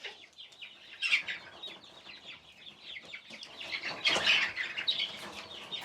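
Chickens and young roosters in a barn coop cluck and squawk in busy, overlapping bursts, with wing flaps mixed in, heard close and fairly quiet.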